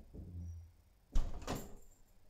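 A door swings open and trips the door-opening sensor of a Tuya alarm system: a low rumble, then two sharp knocks close by, with a thin, faint tone early on.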